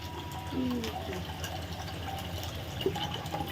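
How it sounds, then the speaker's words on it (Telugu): Running water from a tap as coriander and curry leaves are washed, a steady moderate splashing flow with small clinks, faint and close, continuing throughout. "కొత్తిమీర కరేపాకు ఇది అన్నీ కడిగి పెట్టుకోవాలి ఫస్టే"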